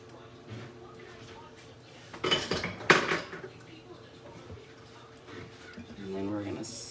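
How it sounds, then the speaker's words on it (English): Mushrooms stirred into melted butter in a pan: a few scraping, clinking utensil strokes against the pan, loudest in a short burst midway, with quiet kitchen background around them. "we're gonna stir those to make sure that they all get a little touch of butter on them"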